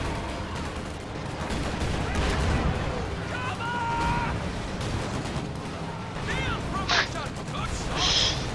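Panzer IV tank fire and scattered gunfire in a World War II strategy video game, with repeated shots and rumbling blasts under a busy battle mix, plus short higher-pitched effects near the end.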